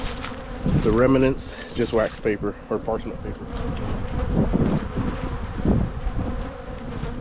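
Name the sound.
bees buzzing in opened hive in January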